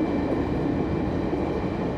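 Steady rumbling roar from the space between two cars of a moving sleeper train, continuous low-frequency rattle and wheel noise with no voices, close and loud throughout.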